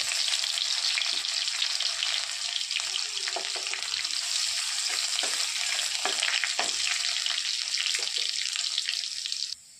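Curry leaves and garlic spit and crackle in hot oil, a dense steady sizzle close to the pan with scattered sharp pops. It runs without pause and cuts off abruptly at the end.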